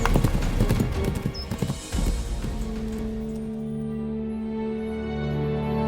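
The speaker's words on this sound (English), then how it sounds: "Wimarc bounded across the hillside on his horse" A horse gallops across a hillside with loud, rapid hoofbeats for about two seconds. The hooves then fade under a steady low drone and music-like tones, with no voices.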